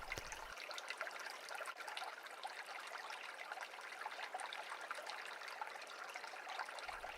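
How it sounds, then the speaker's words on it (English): Steady water runs and trickles in a stream, a constant soft babbling wash with no other sounds. "Now listen for running water."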